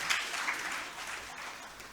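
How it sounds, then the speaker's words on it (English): At a geotechnical conference closing ceremony, an audience gives the organizers a round of applause: a brief burst of dense, even clapping that fills the room at moderate volume. "Give a big round of applause for the organizers."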